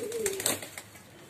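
A caged pigeon with a cold gives a brief, soft, close coo with a slightly rough edge, heard over quiet background noise.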